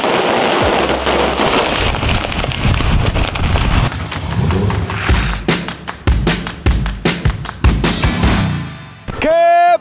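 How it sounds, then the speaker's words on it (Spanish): Gunfire during military police training, a rapid burst of sharp loud cracks and bangs in quick irregular succession, ending with a whistle-like rising tone near the end. "Acaban de empezar los tiros, ya la camioneta les disparó a ellos."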